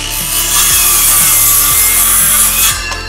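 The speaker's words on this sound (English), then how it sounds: "I'm gonna take my trusty little skill saw, I'm gonna make a cut" A handheld circular saw rips through a wooden wall stud in short, loud, close passes, with the blade's whine rising and falling as it bites into the wood.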